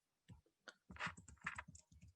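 Keys on a computer keyboard tap in a quick, uneven burst of about a dozen close, crisp clicks, with no talking.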